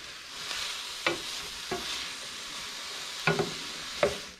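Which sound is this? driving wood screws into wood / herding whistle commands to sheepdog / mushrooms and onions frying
mushrooms and onions frying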